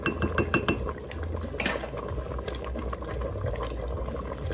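A pot of curry crab in coconut milk bubbles at a steady boil, a continuous close simmering hiss with soft pops and a few light clinks of metal cookware.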